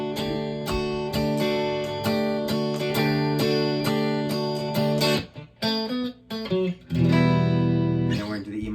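An electric guitar plays the introduction to a song and a fill leading into the verse, with bright, sustained, strongly harmonic chords, a brief choppy run of short stabs, then a loud ringing chord.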